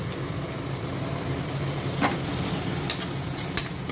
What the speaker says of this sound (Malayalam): നന്നായിട്ടൊന്ന് വഴണ്ട് വരുന്നത് വരെ നമുക്കൊന്ന് ഇളക്കി കൊടുക്കാം.